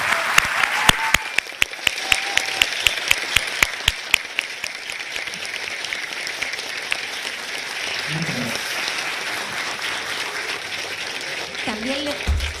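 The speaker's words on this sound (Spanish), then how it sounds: "les pido por favor el último aplauso para el profesor Gabriel Salazar" An audience at a book fair launch applauds a professor with a warm sustained roll of clapping, a few sharp claps standing out near the start, and voices faintly heard toward the end.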